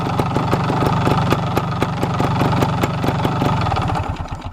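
A vintage Beta Synt trial motorcycle engine running at idle up close, a loud, rapid and even single-cylinder putter that holds steady, then dips and stumbles near the end.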